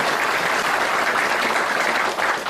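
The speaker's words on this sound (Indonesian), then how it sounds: "tepuk tangan dulu buat Pak Gubernur" An audience applauds a governor, a dense steady wash of many hands clapping at once, sustained and fairly loud from start to finish.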